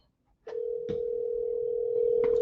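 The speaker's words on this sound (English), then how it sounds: "Let's see if they pick up the phone." A telephone dial tone plays over a speakerphone while a call is placed, a steady sustained tone starting abruptly after a brief click, loud and close with faint tapping over it.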